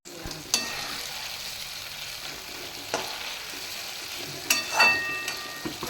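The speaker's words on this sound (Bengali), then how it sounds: "আমি এপিট ওপিট করে মাছটা 2 মিনিটের মতো একটু সাঁতলে নিয়েছি" Katla fish pieces sautéing in hot oil and being turned over, a steady close sizzle with a few sharp clinks and scrapes of the spatula, alone without any voices.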